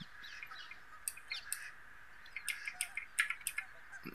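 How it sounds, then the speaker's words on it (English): Faint, distant bird calls over a lakeside in Train Sim World 2 on the Cathcart Circle Line, short chirpy squawks scattered irregularly and clustering near the end, over a quiet, low background hum. "Some ducks and some geese squawking."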